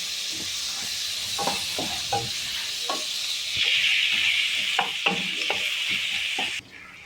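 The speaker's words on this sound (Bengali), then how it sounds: "পেঁয়াজগুলো আমি ভালো করে লাল লাল করে ভেজে নেব।" Chopped onions fry in a pan for mutton curry, a close, steady hiss of sizzling oil broken by a series of sharp stirring scrapes and clinks, the sizzle swelling midway before cutting off abruptly near the end.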